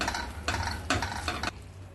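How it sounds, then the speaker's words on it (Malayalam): Puffed rice snack mixture for Kasaragod poriyappam being stirred in a pan, four short scraping strokes in quick succession, fairly close, with no talking. "ഇതൊന്ന് ഇളക്കി കൊടുക്കാം."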